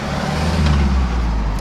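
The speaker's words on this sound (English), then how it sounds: "Hang on, I'll let this lorry go." A heavy lorry rumbles past on a narrow road through a tiny old village, a loud, steady low engine drone close by for the whole moment with no voices.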